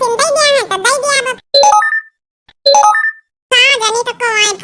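A telephone rings in an animated Hindi cartoon with a short run of bright rising electronic tones, set between loud stretches of cartoon voices talking before and after.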